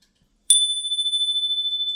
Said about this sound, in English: I love this bell from Japan.